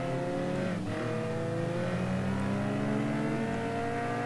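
Manana car in MTA:SA, engine droning steadily at high revs with a brief dip and recovery as gears change, tonal and continuous under faint road noise, no talk.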